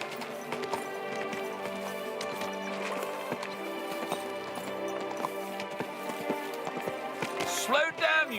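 Steady clip-clop of horse hooves in the video game Kingdom Come: Deliverance 2, under busy music and chatter, with a brief louder burst near the end.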